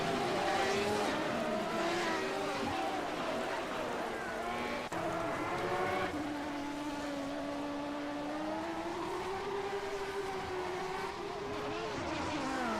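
Several 1989 Formula One-style race cars lap the Interlagos circuit in Assetto Corsa, engines droning loud and steady throughout with shifting pitch as they pass close by, under a commentator's voice.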